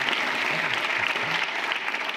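Audience applause at a conference plenary session, a steady wash of clapping from a crowd throughout, moderately loud with no voices standing out.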